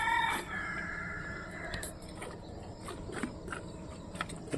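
A rooster crows once, a long drawn-out call nearby, followed by quieter outdoor background noise and faint chirps.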